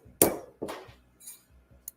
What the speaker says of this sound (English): a perfect curve is hammered onto each blade